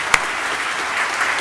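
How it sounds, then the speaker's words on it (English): Applause from a conference audience for sponsors at the Booth-Kellogg Entrepreneurship Through Acquisition Conference, a brief steady patter of clapping with one sharp clap standing out near the start. "I'd like to give them a round of applause."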